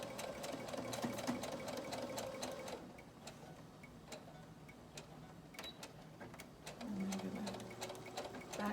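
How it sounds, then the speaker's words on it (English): A sewing machine stitches a long side seam with pockets, running in a fast, steady mechanical whir with needle ticks, a brief slower stretch midway, then speeding up again, close and alone. "now I sewed this and back stitch at top and bottom"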